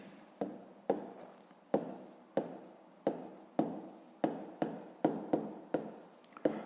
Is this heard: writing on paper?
yes